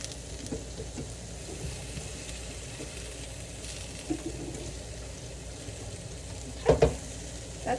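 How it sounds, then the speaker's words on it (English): Sloppy joe mixture simmers in a pan on a gas stove, a soft, steady low sizzle with occasional light utensil taps and a brief clatter near the end. "we're just going to let that heat through a little bit and simmer it for a little while"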